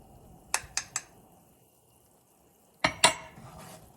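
Spoon stirring chili powder and seasonings in a pan, with a quick burst of three metallic scrapes, a quiet pause, then two more close clinks over a faint background sizzle.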